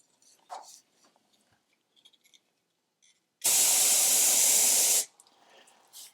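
A K&N brake cleaner aerosol fires one loud, steady hissing blast onto cardboard for about a second and a half, starting and stopping abruptly, with faint handling noises before and after.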